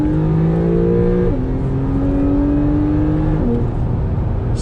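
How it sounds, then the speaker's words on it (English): A Porsche 911 4S accelerating on the road, its engine drone rising steadily with stepped pitch changes at gear shifts, loud and close inside the car with no talking. "Great pops from the exhaust."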